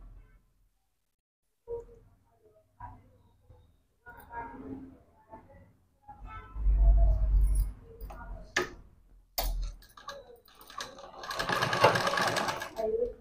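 A sewing machine stitching a half saree neck, running in short bursts of rapid mechanical whirring and ticking between pauses, close by, with someone talking intermittently around the runs.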